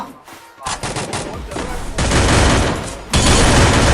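Rapid bursts of close, loud automatic gunfire in the Free Fire battle game, starting after a short quiet moment and building into sustained heavy shooting, with a player's voice briefly heard.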